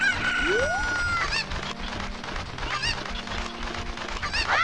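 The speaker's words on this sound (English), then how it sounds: "Come here, chicken." Chickens in the Ocarina of Time video game, heard as repeated clucks and squawks over continuous game background music, with rising and falling bird calls throughout.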